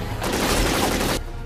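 A single short burst of gunfire from a PlayStation shooter as the character peeks out from cover, a loud broadband blast lasting about a second before cutting off.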